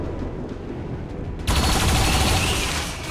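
Turret fire in XCOM 2: after a quiet stretch, a sudden loud, dense barrage of rapid shots bursts in and continues steadily to the end, with no voices.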